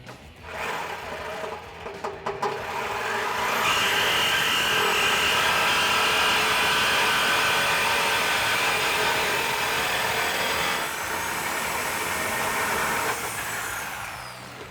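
A saw cuts through the steel exhaust pipe of a 2018-2020 Mustang GT, a loud, continuous buzzing grind close by that holds steady for several seconds before easing off.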